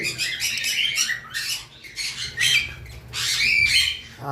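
Red-eye and black-eye lovebirds on a farm squawking in repeated shrill, rasping bursts, close and busy over a low background hum, with no voices.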